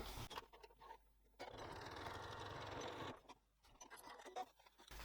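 A sewing machine stitching a dart on a clamshell sling runs in two short bursts of steady whirring, separated by quiet pauses, close and fairly soft.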